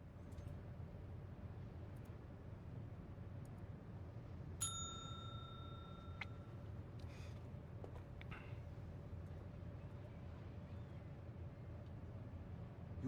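A bell rings once in the point-and-click game Secret Files 2: Puritas Cordis, a single clear ding with a short ringing tail partway through, over a faint, quiet low background hum.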